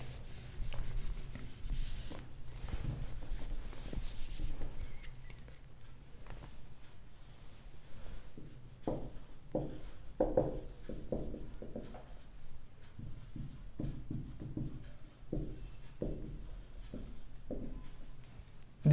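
A pen writes out direction ratios during a solid geometry lesson on lines, with quiet close scratching strokes in short irregular bursts and taps, alone without speech.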